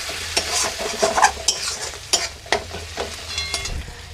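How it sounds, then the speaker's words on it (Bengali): Tomato and spice masala for a mushroom masala stir-fries in a pan, with a soft steady sizzle under repeated scraping strokes of a spoon, close by and without speech. "টমেটোকে দিয়ে আবারও খুব ভালোভাবে মশলাটাকে আমি কষিয়ে নেব"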